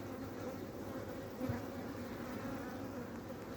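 Honey bees buzz around an open hive on a February day early in the season, a steady, dense drone filling the air close by, with one brief louder pass near the middle.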